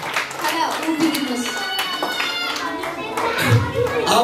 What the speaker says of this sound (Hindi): ताली बजाइए सिस्टर के लिए।